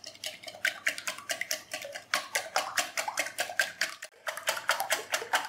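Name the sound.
whisking eggs in a bowl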